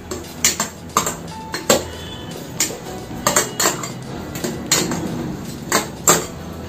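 Snowball dessert ingredients, including sugar, are mixed in a bowl with a spoon, giving repeated close clinks and scrapes of metal against the dish in an uneven rhythm.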